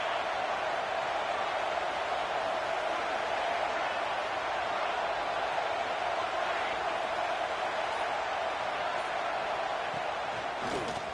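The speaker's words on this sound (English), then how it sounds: "This crowd ready to make its presence known." A stadium crowd in the football video game College Football 26 roars steadily as a dense, continuous wash of cheering that holds level throughout, with commentary voices faintly underneath.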